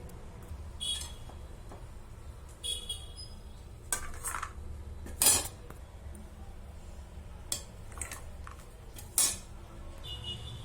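Fried dry fruits being spooned from a pan into a dish while making adadiya pak: quiet, scattered clinks and light scrapes of utensil on metal over a low background hum.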